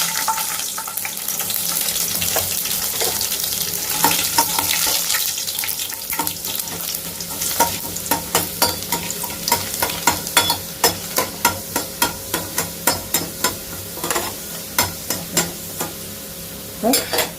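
Garlic fries in a pan for a dried-fish curry, a steady sizzle that gives way to a rhythmic series of sharp stirring scrapes and knocks, repeating about once a second, close and fairly loud.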